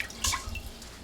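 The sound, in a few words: water being added to rice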